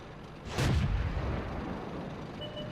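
A single tank gun shot booms from the SU-85B tank destroyer in World of Tanks, a sharp blast with a low rumbling tail that fades over a couple of seconds, followed by quiet game ambience.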